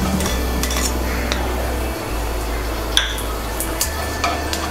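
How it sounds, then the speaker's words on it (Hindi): About a tablespoon of chopped garlic softens in two to three tablespoons of oil in a pan, making a light, even sizzle with occasional utensil taps and scrapes over a low steady hum. "2 से 3 टेबल स्पून ऑयल डाला, इसके अंदर हमने 1 टेबल स्पून जितना लहसुन चॉप करके रखा है वो शामिल करेंगे।"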